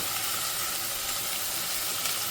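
Ginger-garlic paste sizzles steadily in hot oil with tomato-onion paste, a continuous close frying hiss with no pauses and no talking.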